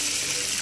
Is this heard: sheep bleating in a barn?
no